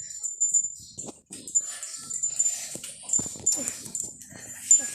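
A dog kept indoors in a home whimpers and yips in short bursts close by, heard among people talking.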